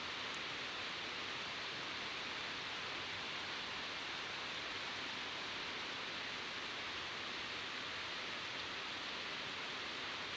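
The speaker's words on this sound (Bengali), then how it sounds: "জোরে সোরে বৃষ্টি হচ্ছে।" Heavy rain pouring steadily outdoors during a prolonged downpour, a dense unbroken hiss filling the whole stretch at even loudness, with no voices.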